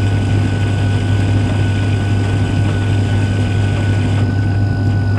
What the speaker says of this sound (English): that's the sound of that condensing water is making a noise anyway